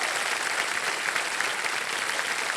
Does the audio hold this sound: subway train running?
no